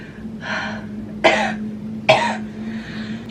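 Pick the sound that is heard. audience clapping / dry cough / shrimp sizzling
dry cough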